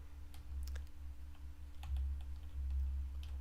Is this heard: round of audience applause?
no